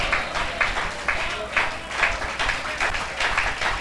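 Scattered, modest applause from a church congregation during a Spanish-language sermon, rhythmic clapping bursts rising and falling under a crowd murmur.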